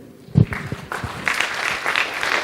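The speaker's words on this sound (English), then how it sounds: "Big round of applause for our keynote speaker." Audience applause for a keynote speaker at the close of a session, starting with a loud thump and building into steady clapping from a crowd, moderately close and continuous.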